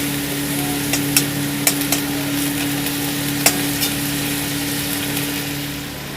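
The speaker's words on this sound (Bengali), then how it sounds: "হালকা একটু জল দিয়ে দিয়েছি, দিয়ে এটা নাড়িয়ে নেব" Egg korma simmers in a pan after a splash of water, a steady sizzle with a spoon stirring and occasional light scrapes against the metal, close up with no voices.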